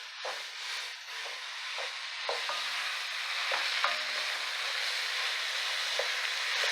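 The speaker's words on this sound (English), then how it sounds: "Now we're going to go ahead and get our ground beef in, 1 pound. Break that up very well." One pound of ground beef frying with vegetables in a pan for chili, a steady close sizzle and hiss broken by repeated scraping, stirring strokes as the meat is broken up, with no talk.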